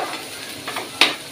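Onions frying in a pan give a soft steady sizzle up close, broken by a few light stirring scrapes and one sharper clink near the end.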